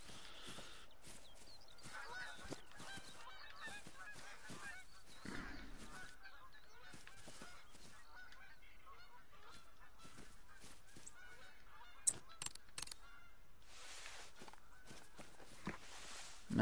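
Canada geese honking in The Hunter: Call of the Wild, scattered faint calls over rustling footsteps through brush, with a few sharper honks later, fairly distant.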